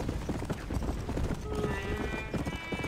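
A horse in the video game Red Dead Redemption: Undead Nightmare trots with a quick, even clip-clop of hooves, fairly faint under a steady bed of game ambience and music.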